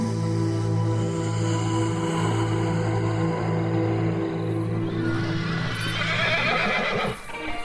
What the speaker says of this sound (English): I heard this terrible neighing from my horse